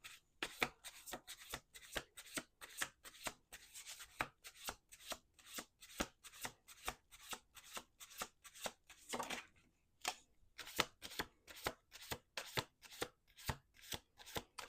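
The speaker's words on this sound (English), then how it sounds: "2 more shuffles." Tarot cards are shuffled repeatedly up close, a quick rhythmic riffling that pauses once briefly before continuing, quiet and steady.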